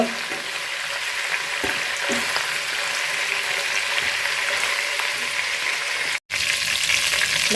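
Onions fry in hot oil left over from frying shrimp, a loud, continuous dense sizzle with faint stirring underneath and a single brief dropout near the end.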